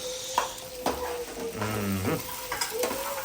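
Food being stirred and mixed as it fries in a pan, with a sizzling hiss under scraping utensil strokes against the metal and a few low knocks, close and moderately loud, with no voices.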